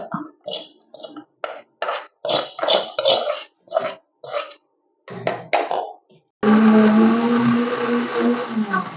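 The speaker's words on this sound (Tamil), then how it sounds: "போட்டு அரைச்சிடலாமுங்க." A mixer grinder whirs loudly and steadily as it grinds sundakkai (turkey berry) chutney, starting abruptly after a stretch of someone talking.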